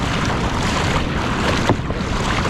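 Water washing and churning around a kayak in a shallow river section, a steady broadband wash with light wind buffeting, close and continuous with no voices.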